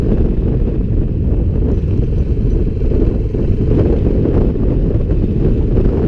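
Loud, constant wind buffets the microphone in a heavy low roar, with a Lifan motorcycle engine faintly beneath it on forest roads.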